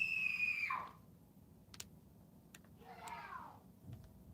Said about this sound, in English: that would be my youngest screaming